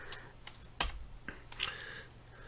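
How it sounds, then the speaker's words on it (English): HTML code being typed on a computer keyboard, a few scattered soft key clicks at irregular intervals, close and quiet in a still room. "we're going to type the following"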